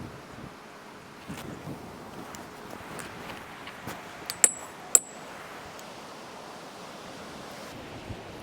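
Steady outdoor wind gusting and rushing at a pipe fence build site, with a couple of sharp metallic clinks cutting through the breezy background.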